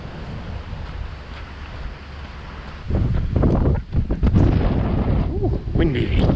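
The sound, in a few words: wind blowing into microphone near Toyohira River, Sapporo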